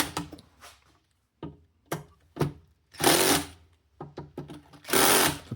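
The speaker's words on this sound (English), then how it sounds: "Same as before with this, we're going to just tighten these screws up." Screws are tightened on a Technics SL-1210MK2 turntable: short scattered clicks and taps, broken by two longer close whirring bursts like a powered driver spinning.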